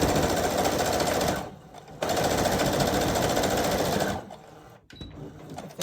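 A home sewing machine stitching fabric scraps together with burnt orange thread, running in a fast steady mechanical chatter, stopping briefly, restarting for a longer run, then halting with small clicks, close and alone.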